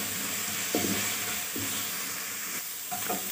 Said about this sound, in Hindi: और अब इसमें मैं ये अदरक लहसुन पेस्ट डाल दूंगी, इसको भी 1-2 सेकंड के लिए भून लूंगी